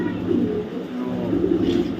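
Racing pigeons from a club loft cooing in a low, continuous, throaty murmur close by, several birds overlapping steadily throughout.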